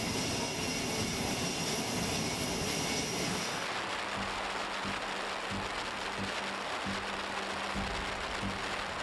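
Aboard the USS Nimitz in the Arabian Sea, aircraft engines and helicopter propellers roar loudly and continuously, the broadband blast shifting partway through to a lower, throbbing drone.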